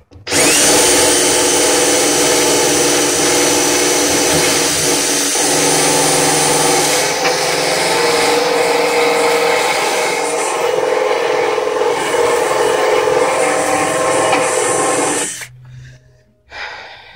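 A power tool running on speed 2 strips paint near the negative power lug of a Chevy HHR, giving a loud, close, steady high-pitched whine that holds for about fifteen seconds before cutting off.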